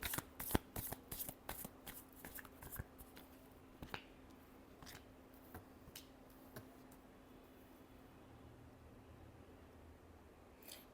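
Tarot cards are shuffled close and quietly, giving a run of crisp, irregular riffling snaps and taps with a soft low hum beneath.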